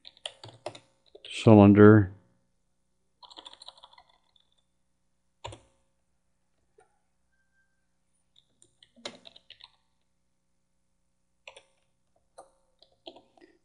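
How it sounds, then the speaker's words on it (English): Sparse bursts of computer keyboard typing, with short clusters of light key clicks separated by silent pauses, close up; a voice is briefly heard near the start. "So we'll type in extend clamping"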